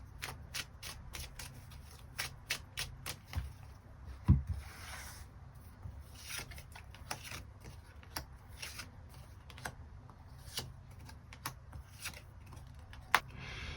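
Tarot cards being shuffled by hand in a steady run of soft riffling slaps and rubs, close and fairly quiet, with no talking.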